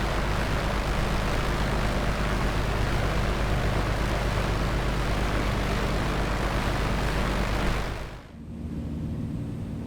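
Beechcraft Bonanza propeller engine in a flight simulator, a loud steady droning hum that holds for several seconds, then suddenly drops away to a quieter, lower rumble near the end.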